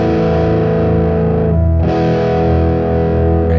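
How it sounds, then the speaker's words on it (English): An Epiphone Union Jack Sheraton electric guitar played through a Boss ST-2 Power Stack distortion pedal rings out loud and saturated, with sustained distorted chords and a brief dip near the middle before the next strum. "I'll also be using the Boss ST2 power stack for my distortion"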